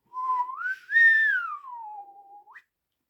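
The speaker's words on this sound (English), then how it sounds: "and began whistling" A single whistled melody, rising then gliding down in a long smooth phrase, close and clear with no other sounds around it.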